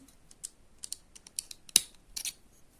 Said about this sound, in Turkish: Şu bağladığım kısmı kesiyorum.